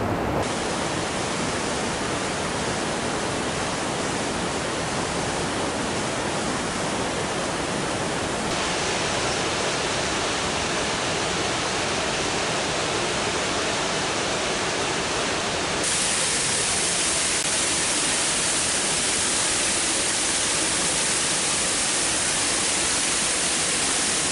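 Steady, roaring rush of waterfalls and a fast mountain torrent on a Hautes-Pyrénées trail near Cauterets, loud and continuous with no voices, growing brighter and hissier partway through.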